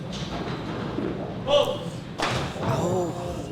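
During a WCBTour championship quarterfinal, a cornhole bag thuds against the side of the board, a couple of dull, close knocks heard under ongoing commentary from people talking.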